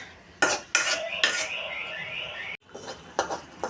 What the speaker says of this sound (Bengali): আর কিচ্ছু লাগবে না নেড়ে ছেড়ে আর একটু রান্না করে নিব